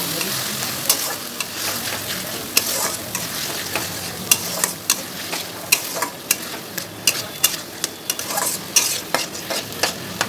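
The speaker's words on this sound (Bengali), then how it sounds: "সেই মশলাটা আমি এবার এর মধ্যে দিয়ে দেবো, দিয়ে ভালো করে নাড়তে থাকবো।" Spice paste stirred into fried onions for a Bengali chicken curry, a constant close sizzle punctuated by sharp repeated scrapes and taps of a spoon on the pan, growing more frequent toward the end, with no voices.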